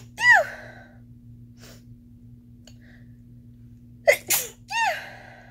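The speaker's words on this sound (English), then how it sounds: "I feel like I'm about to sneeze." A person gives a sharp, close sneeze, then a double burst of sneezes a few seconds later in a quiet room, with a low electrical hum underneath.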